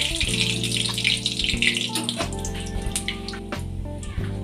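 About a spoonful of nigella seeds fry in hot oil for a snake gourd curry, a steady close hiss and crackle over a low hum, without any talk.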